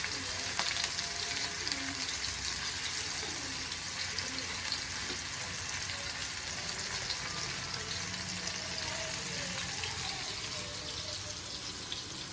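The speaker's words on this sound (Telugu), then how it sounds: "ఇప్పుడు ప్రాన్స్ ఫ్రై చేస్తామండి." Prawns frying in hot oil, a steady close sizzle and crackle that stays even throughout, with no talking.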